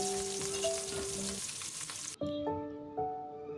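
Pieces of pangas fish coated in salt and turmeric sizzle in hot oil, a steady close crackle that cuts off abruptly partway through and gives way to quieter kitchen sounds with tonal hums.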